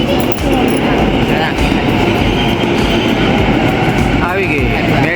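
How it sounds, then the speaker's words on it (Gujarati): A train pulls into a station in Gujarat with a loud, continuous rumble and rattle of carriages that stays steady and close throughout. "આપણી ટ્રેન આવી ગઈ છે."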